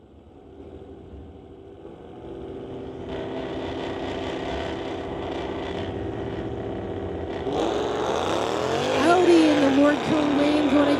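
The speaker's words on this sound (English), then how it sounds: "The Dodge here, that Audi's chasing him down." Dodge and Audi cars drag racing down a strip, engines roaring steadily and building as one accelerates hard near the end, with a rising whine and a loud engine note throughout.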